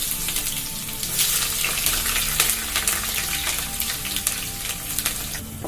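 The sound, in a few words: curry leaves, ginger, garlic and green chillies frying in oil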